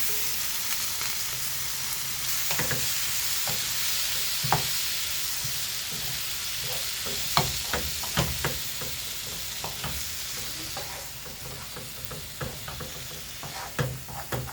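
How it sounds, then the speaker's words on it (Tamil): Potatoes frying in a pan with chili powder, garam masala, ground coriander, salt and pepper, a steady bright sizzle with scattered clinks and scrapes of stirring, close and alone with no talk. "இப்போ பொட்டேட்டோ ஃப்ரை பண்ணிடலாம் இதுலேயுமே சில்லி பவுடர் அப்புறம் கொஞ்சம் கரம் மசாலா அப்புறம் மல்லிப்பொடி உப்பு பெப்பர் பவுடரில் போட்டு ஃப்ரை பண்ணிட வேண்டியது தான்"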